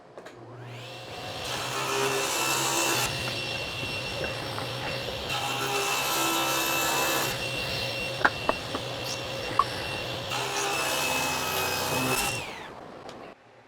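Wood boards for a counter-height chair seat are milled down on a loud, steady whining woodworking machine that runs in long passes with brief dips between boards, close up and without talking.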